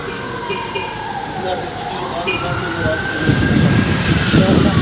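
An ambulance siren rises and falls in the distance at a market, faint under steady rain-like hiss and a low rumble that grows louder toward the end.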